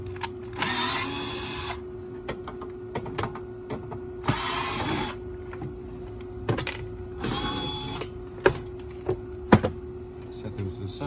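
1/4-inch screws being backed out of an unplugged battery charger casing with a power driver, three whirring runs separated by small clicks and clinks as screws are set aside, nearby and moderately loud, with some speech.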